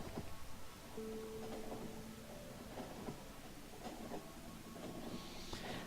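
A train departing in the Factorio video game: a steady rolling rumble with tonal hum and scattered clanks, continuous and moderately loud for the whole stretch, with a brighter hiss rising near the end.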